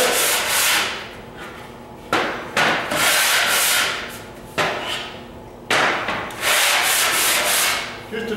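Sanding the rough edges of a cut piece of white melamine before edge banding, in loud repeated back-and-forth strokes with short pauses between passes.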